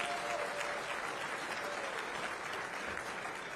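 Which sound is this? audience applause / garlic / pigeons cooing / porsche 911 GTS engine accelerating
audience applause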